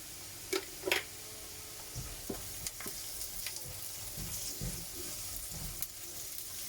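Onions caramelizing with sugar in a pan while being stirred, a soft steady sizzle broken by a few sharp clicks and scrapes of the spoon against the pan, close and fairly quiet with no talking.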